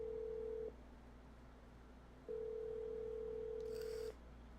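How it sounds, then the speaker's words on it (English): On a telephone line, a steady dial tone hums, stops, then returns. Near the end a short burst of keypad dialing beeps plays over it before the line settles to a quieter hiss. "I'm gonna dial his phone number right now."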